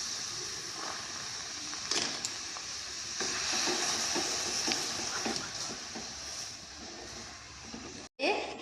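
Caramelized sugar and milk stirred in a pan for a Bengali simui payesh, giving a steady bubbling sizzle with scraping spoon strokes throughout and a brief clatter near the end.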